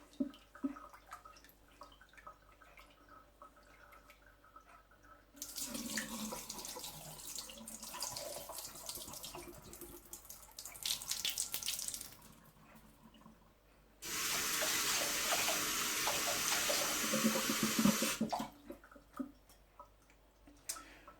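Tap water runs into a sink in two loud bursts while rice is rinsed, with quieter sloshing and clinking as grains are swirled and drained between them.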